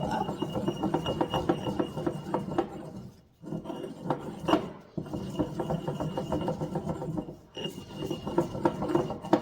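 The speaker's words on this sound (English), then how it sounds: "I'm just going to grind it all up" Spices for a vegetarian chili ground by hand in a bowl, a close, gritty scraping and crunching in steady bursts with a couple of short pauses, no voices.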